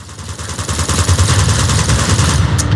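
Loud automatic gunfire in Uncharted 2: Among Thieves on PS5, a continuous rattling stream of shots that fills the whole stretch.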